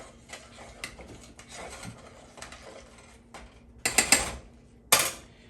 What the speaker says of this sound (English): I'm gonna stir my grits.